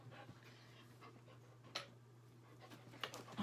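A big slobbery dog panting quietly indoors, soft rapid breaths over a low steady hum, with a couple of brief louder sniffs or snorts.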